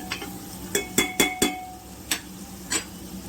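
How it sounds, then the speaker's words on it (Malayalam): A spoon scrapes and clinks against a pan as onions for veg pulao are stirred over a soft background sizzle. There are several sharp, close knocks in an uneven rhythm. "അണിയൻ സോഫ്റ്റ് ആവണ വരെ ഒന്ന് ഇളക്കിയെടുക്കാം."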